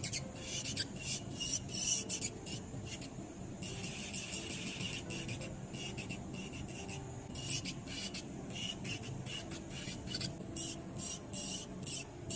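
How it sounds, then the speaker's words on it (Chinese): Nail file rasping across gel on a press-on nail, a steady close scratchy scrubbing in short repeated strokes with brief pauses, continuing throughout without any talk. "打磨的时候不要磨到皮肤，我们只要磨我们整甲面胶的厚度就可以了"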